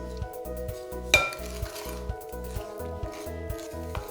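Evaporated milk being mixed into Belizean powder bun dough, a rhythmic scraping and stirring in a bowl with repeated even strokes and one sharper clink near the start, close and fairly quiet.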